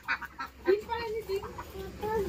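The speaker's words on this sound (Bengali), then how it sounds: "ব্যাস খুলে দিল খাঁচা, হাঁস মুরগি সবাই বেরিয়ে পড়েছে।" Ducks and chickens let out of their cage give close, short quacking and honking calls in uneven bursts, mixed with a voice nearby.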